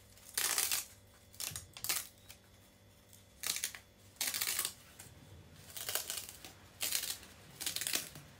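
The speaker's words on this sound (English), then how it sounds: "you can peel" Paper backing being peeled off freshly cut craft foam, heard as repeated bursts of dry tearing and crinkling, each lasting about half a second, with quiet gaps between them and no talking.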